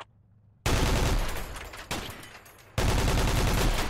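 Rapid bursts of ordinary gunfire from a multiplayer shooter game open after a brief quiet, with a loud sustained volley, a short drop, then another heavy burst, with no talking.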